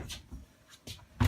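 A residential refrigerator door opens inside an interior with soft handling clicks, then a louder thump at the end. The sounds are quiet and close, with no talking.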